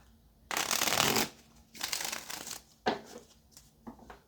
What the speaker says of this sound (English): Let's shuffle this out and see what's next.